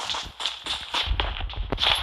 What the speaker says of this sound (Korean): 발소리 뭐야? 우리 팀인가?